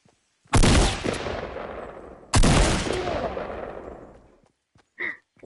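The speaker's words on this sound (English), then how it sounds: "Then why are you shooting?" Two loud bursts of gunfire from the Fortnite video game, each a sharp crack trailing into a decaying rumble about two seconds apart, followed by a brief short sound.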